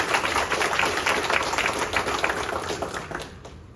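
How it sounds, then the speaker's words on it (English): An audience bursts into warm applause, a dense patter of many hands clapping at once that holds steady before tapering off at the end. "Big round of applause."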